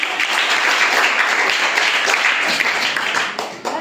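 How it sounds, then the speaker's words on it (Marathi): Schoolchildren clap during a quiz program at a village primary school, producing a few seconds of dense, even applause that fades slightly at the end. "सगळ्यांनी टाळ्या"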